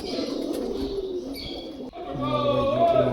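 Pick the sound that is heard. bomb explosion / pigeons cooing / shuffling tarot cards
pigeons cooing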